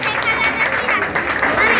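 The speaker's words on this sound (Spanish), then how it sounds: "Fuerte el aplauso." Audience applause at an award ceremony at Mercado Tetitlan, a steady dense wash of many hands clapping throughout, loud and continuous without a break.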